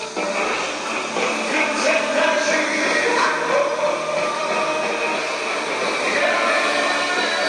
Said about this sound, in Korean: 여러분 지금 기차가 지나가고 있는데요